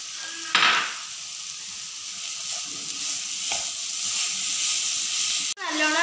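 A sweet banana and coconut mixture with sugar is stirred in a hot pan, a steady soft sizzle and hiss broken by a few sharp scrapes and clinks of the spoon against the pan.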